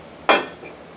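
A cooking pan and a measuring cup handled in a home kitchen, with one sharp metallic clank followed by a brief fading ring and a faint second tap.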